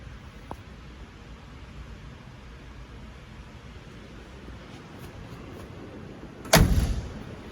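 A car door slams shut once near the end, a sharp solid thud that briefly rises over steady background hiss from pouring rain.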